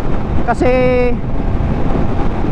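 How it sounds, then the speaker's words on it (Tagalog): Strong wind buffets the microphone of a rider on a Triumph Trident 660 motorcycle on a highway, a loud, rough low roar throughout, with someone briefly speaking over it near the start. "sobrang lakas na ng hangin dito"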